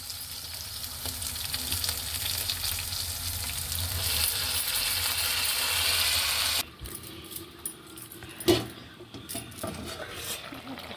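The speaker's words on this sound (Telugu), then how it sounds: "ఇప్పుడు చింతచిగురు వేస్తాను." Tender tamarind leaves and green chillies fry in a pan with a loud, steady sizzle. The sizzle cuts off abruptly partway through, followed by quieter stirring, scattered utensil clinks and one sharp knock.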